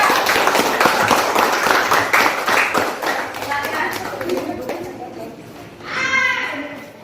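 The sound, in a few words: class applauding a presenting group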